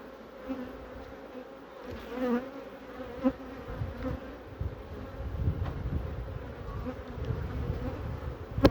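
Honeybees in a three-box hive full of honey hum in a low, continuous drone, with individual bees buzzing closer now and then over the steady background swarm.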